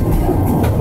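A train with wagons passes close by in a brief, loud burst of rolling rumble and rattle, with no voices heard.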